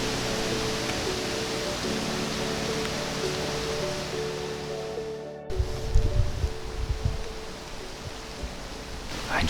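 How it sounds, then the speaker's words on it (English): Broad, rushing wind noise on a wet, windy day outdoors roars steadily for several seconds, then drops abruptly and continues as gustier buffeting with low rumbles. "It's a wet day and windy."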